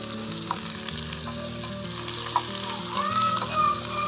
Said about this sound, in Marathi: लाल होईपर्यंत पर्यंत आपण टाकून देऊया लाल होतोर आता आपण हलवून घेऊया